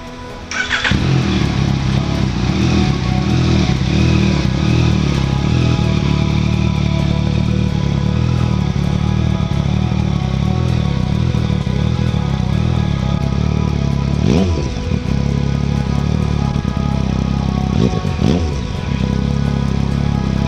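An XSR 900 motorcycle fitted with a Yoshimura full exhaust idles roughly then revs up several times, loud and close, with a deep throaty exhaust note throughout.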